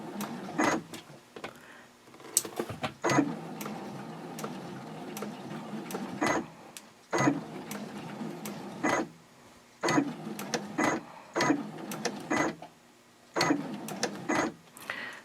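A sewing machine stitches a purse in short runs broken by pauses, with rapid mechanical whirring and sharp clicks between bursts, close and moderately quiet.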